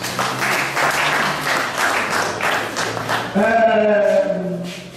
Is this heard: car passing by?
no